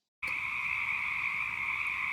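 Frogs croak outdoors at night after rain in a dense, continuous chorus. The sound starts abruptly and stays steady and fairly loud, with no voices.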